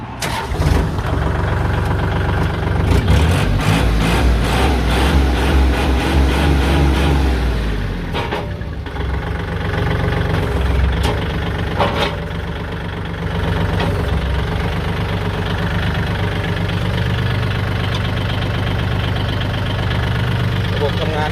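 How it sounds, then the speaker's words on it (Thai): A Kubota L4018 tractor's diesel engine cranks and catches, then settles into a steady, rumbling idle with a rhythmic knock, loud and close throughout. "เดี๋ยวเราลองสตาร์ทเครื่องยนต์ดูนะครับ"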